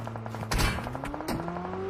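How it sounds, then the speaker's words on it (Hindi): Rapid gunfire from a battle royale video game crackles in several short bursts, fairly quiet and distant over a droning vehicle engine hum. "भाई क्या ही बंदे फायर कर रहे हैं एकदम से"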